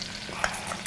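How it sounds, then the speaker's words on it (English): Shallots and garlic sizzle in a cup of melted butter for a BBQ shrimp dish, a steady close frying hiss with a brief stir sound partway through, no voices. "we've melted 1 cup of butter, and what we're going to do, we're going to add this. We got some shallots here, garlic,"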